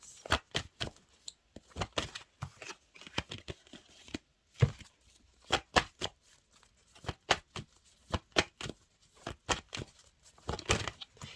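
A deck of tarot cards being shuffled in repeated quick bursts of riffling and slapping, close and fairly quiet, with short pauses between bursts and no talking.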